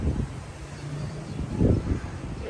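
Wind gusting outdoors where chilies were spread out to dry in the sun, a low rumbling buffet across the microphone that swells and eases, with no talk.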